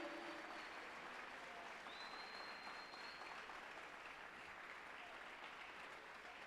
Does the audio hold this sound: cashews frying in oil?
no